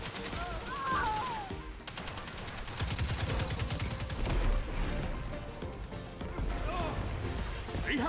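Bursts of rapid gunfire and sharp weapon shots crack through a Destiny 2 match, with quieter stretches between dense volleys and voices talking over the action.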